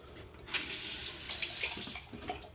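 Water gushes steadily from a new tap on a 20-year-old boat, a bright close hiss with small splashing fluctuations, no voices.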